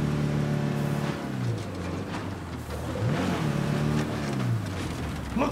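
Car in State of Decay 2 driving fast, its mid-pitched engine droning steadily, then dipping and climbing again through several revving surges as it accelerates, loud and close.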